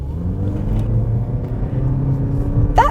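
The 2-litre four-cylinder hybrid engine of a 2021 Toyota C-HR GR Sport drones as the car pulls hard, a loud, steady low rumble heard from inside the cabin.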